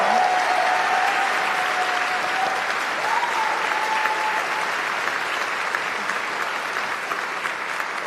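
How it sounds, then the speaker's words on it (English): A large audience at the BAFTA Games Awards applauds steadily, a dense, continuous wash of clapping that holds at an even level throughout without breaks. "Can we get another big round of applause for Mark Choi and the Samaras Ensemble?"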